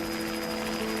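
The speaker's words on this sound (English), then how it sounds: "Her prayers are answered when she hears a helicopter." A helicopter drones steadily, its rotor hum constant and fairly loud throughout, with no voices.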